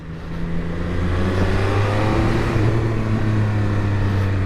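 A Triumph Speed Triple RS 1200 motorcycle engine revs and builds up speed close by, a loud rising drone with a steady hum underneath, no voices.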